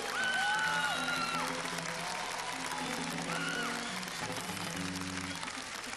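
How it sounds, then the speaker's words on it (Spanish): An audience applauds a violinist at a live concert, a continuous wash of clapping heard under sustained music tones, with crowd noise and faint voices mixed in. "Un aplauso para ella fuerte, caballero."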